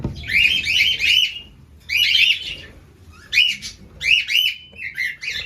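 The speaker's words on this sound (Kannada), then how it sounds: "ನಾನು ಬೀಗ ಓಪನ್ ಮಾಡ್ತಾ ಇದ್ದಂಗೆ ಎಲ್ಲ ಕಿರಿಸ್ತವ್ರೆ" Caged pet birds kept for breeding screech as their cage lock is opened, giving loud, harsh squawking bursts in several close bunches separated by short pauses, with no talking.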